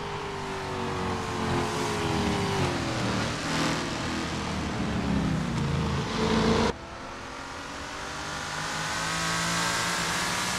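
Lola T70 race cars at Interlagos in the Assetto Corsa video game: loud engine roar that rises and falls, with revving and faint tire noise. Midway the sound cuts abruptly to a steadier, slightly quieter engine drone.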